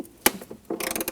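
A ratchet wrench loosening the 13mm bolt on an Audi Q5 battery hold-down strap, giving one sharp click followed by a quick run of rapid ratcheting clicks, close up and fairly quiet.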